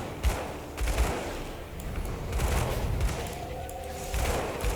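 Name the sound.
gunfire from the video game Grim Dawn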